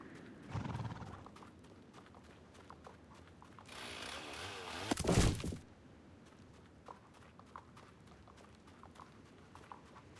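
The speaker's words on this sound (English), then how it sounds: "We are going to have our horse follow us." Horse hooves clip-clopping at a steady walking pace in the video game Star Stable Online, moderately close, with a louder burst of whooshing and rustling midway.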